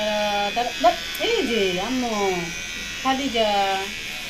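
An electric hair clipper cuts a young girl's hair at home, its constant buzzing hum running beneath a person talking.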